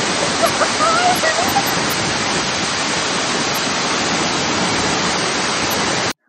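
A 70 m waterfall in Chiang Rai roars as a loud, dense, unbroken rush of falling water, close and constant, before it cuts off abruptly.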